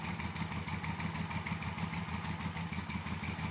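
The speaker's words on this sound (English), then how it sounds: "there's a lot more noise coming from the engine itself" A Moto Guzzi V7 Racer motorcycle engine idles close by with a steady, loud, pulsing mechanical rumble and a rattly top-end clatter, alone and unbroken throughout.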